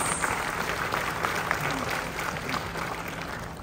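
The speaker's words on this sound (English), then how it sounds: "please give yourselves a round of applause" Delegates at a Philippine tourism gathering applaud in a large hall, a steady, even wash of clapping from many hands heard at a moderate distance with no voices over it.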